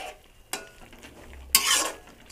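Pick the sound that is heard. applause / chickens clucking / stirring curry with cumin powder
stirring curry with cumin powder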